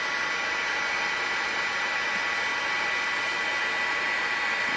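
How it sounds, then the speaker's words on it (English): A heat gun melting embossing powder for card making blows a steady, close, loud hiss of rushing air with no change in tone from start to finish. "My heating gun is all heat up, and all I'm going to do now is melt the powder on"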